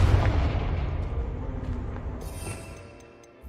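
A Confringo fire spell explodes in the Hogwarts Legacy video game: a loud booming blast with a rumbling tail that slowly fades over a few seconds.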